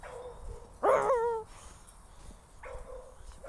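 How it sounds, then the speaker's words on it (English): A white dog with a thick collar lets out one loud, strange whining howl with wavering pitch, lasting about half a second, close by, followed by quieter outdoor background noise. "Creepy sound dog."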